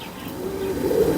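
Low, soft cooing from large fancy pigeons kept by a pigeon fancier, a steady murmur that swells slightly louder toward the end, close by with no talk.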